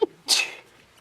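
A single sharp sneeze in a county board of commissioners meeting room, preceded by a brief breathy intake, close and clear against a quiet background.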